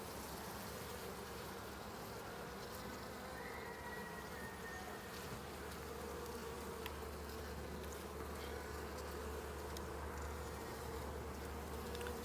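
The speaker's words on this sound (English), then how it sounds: "Check out these beautiful bees." A dense, steady drone of many honey bees buzzing close by in an open hive in March, constant and full, with no voices.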